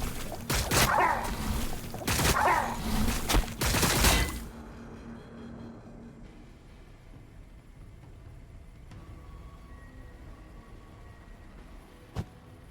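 Gunfire in the strategy game Warhammer 40K: Battlesector, loud rapid bursts for about four seconds, then a quiet battlefield rumble with a single sharp crack near the end.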